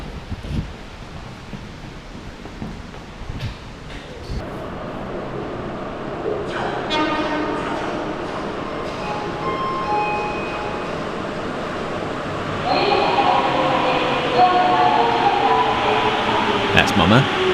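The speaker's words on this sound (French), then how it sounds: "Et maintenant, on essaie le métro de Sapporo." A Sapporo subway train runs with a steady rumbling hum and air-conditioning-like whoosh, rising louder partway through with tonal whine; occasional talk is heard underneath.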